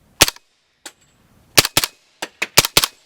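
Sharp, loud gunshots from an Extar EP45 pistol firing .45 ACP at a range, about nine close cracks with short echo tails, some in quick pairs and others spaced apart, with no talk.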